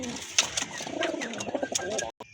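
Domestic pigeons, including a red male local breed, coo softly in a close series of low, throaty calls, with a brief break near the end and light voices in the background.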